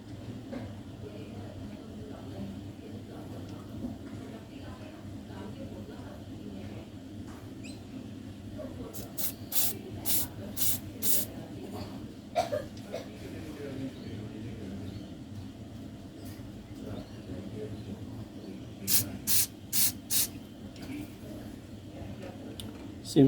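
Carpet cleaner sprayed from a can through the main jet of a Victa Tilt-A-Cut S90 lawn mower carburetor, a faint background of noise broken by several short hissing spray bursts in two groups.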